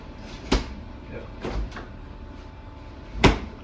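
A newly installed refrigerator's doors are opened and shut in a sawdust-strewn kitchen under renovation: three sharp knocking thuds, spaced apart, close and fairly loud, over low room noise.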